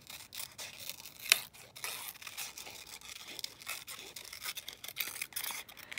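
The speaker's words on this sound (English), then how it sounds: "I just kind of cut like jaggedy, you know, like in and out with my scissors" Scissors cutting jagged, in-and-out shapes into paper for a craft project, producing quick rhythmic snipping and crisp rasping strokes, close and fairly quiet, with no talk.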